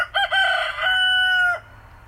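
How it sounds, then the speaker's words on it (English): A rooster crows once at an afternoon farm homestead, a clear drawn-out cock-a-doodle-doo at moderate distance over faint background hum, with no talking. "I guess the rooster likes that."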